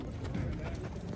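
Horse hooves clip-clop faintly on the ground at a horse show in Jodhpur, a brief uneven patter of steps heard amid background crowd noise.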